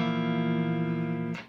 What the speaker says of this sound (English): So beginners tend to play all the strings on this, and it will sound really bad.